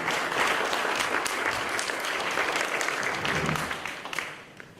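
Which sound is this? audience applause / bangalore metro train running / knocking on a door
audience applause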